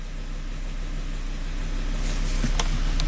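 A Volvo engine idles steadily after valve repair work, a continuous low rumble close by that swells slightly toward the end, with a few faint clicks and knocks near the finish.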